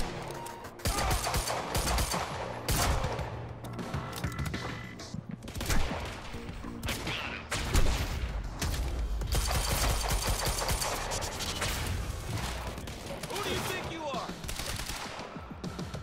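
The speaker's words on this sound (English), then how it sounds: "Open fire!" Rapid bursts of automatic gunfire and single shots in the video game Quantum Break, loud and sustained across the whole stretch, with dense overlapping volleys and brief pauses.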